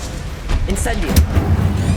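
The Incendio fire spell is cast in the video game Hogwarts Legacy as a low rumbling whoosh and burst of flame, heard together with a voice and game sounds.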